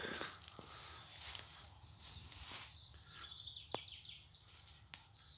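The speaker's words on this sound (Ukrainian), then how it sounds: "співають пташки." Faint, scattered birdsong in a quiet spring forest, with a few short chirps and tweets spread across several seconds against a soft, low background.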